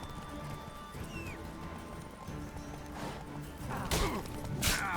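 Horse hooves clop steadily over a busy soundscape in The Witcher 3, with a couple of bright whinny-like bursts near the end.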